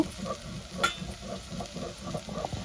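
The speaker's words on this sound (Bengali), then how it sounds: "টমেটোটা আমি ভালো করে কষিয়ে নেব।" Tomatoes sauté in hot oil tempered with nigella seeds, giving a soft, steady sizzle broken by light stirring scrapes and taps, fairly quiet and close with no talking.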